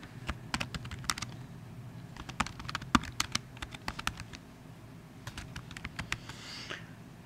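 A computer keyboard is typed on nearby in quick irregular bursts of crisp key clicks over faint room hum, with a short pause in the middle before the tapping resumes.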